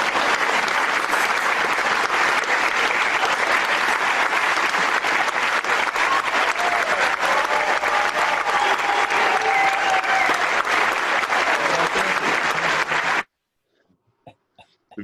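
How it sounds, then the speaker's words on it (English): Audience applause for a magic act, dense and loud clapping that goes on for about thirteen seconds before cutting off abruptly, followed by a few faint scattered sounds. "but he just took the applause"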